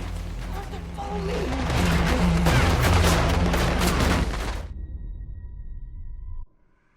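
A shootout with officers in Red Dead Redemption 2 brings rapid, overlapping gunfire that swells to a loud, dense burst before cutting away, with talking heard over the shots.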